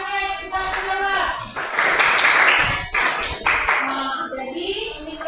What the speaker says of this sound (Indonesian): Tepuk tangan buat kawannya yang sudah menjawab